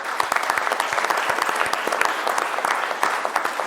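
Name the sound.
audience applause in memory of tennis coach Luigi Festa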